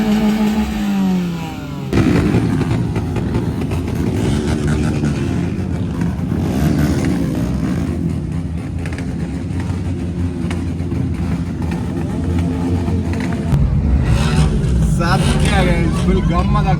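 Vehicle engines revving at a coastal auto carnival among cars and bikes such as a Baleno and an R15 with double exhaust, a loud continuous rumble with rising revs, while someone talks over it.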